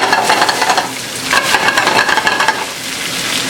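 Crumbled tofu frying in a pan, a loud close sizzle with scraping stirs of a utensil against the pan coming in waves, no voices over it.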